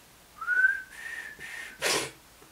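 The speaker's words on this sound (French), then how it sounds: "rien que le son du sifflet original, j'aime trop" A whistled signal like the one from the Hunger Games films: one rising tone that holds steady through several soft bursts, then ends in a breathy burst.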